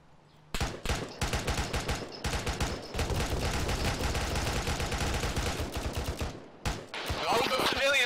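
Near-constant automatic gunfire in the ArmA3 co-op military game, aimed at an armed vehicle crossing a bridge. Loud, dense volleys of overlapping shots roll on with barely a pause after a short quiet start.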